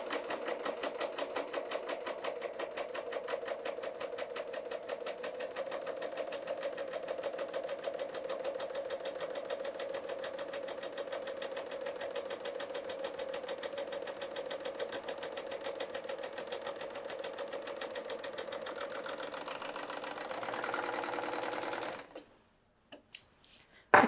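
A serger sewing machine cuts and stitches fabric with long floats in a rapid, steady whirring chatter, running evenly close by before stopping abruptly near the end, followed by a few light handling clicks.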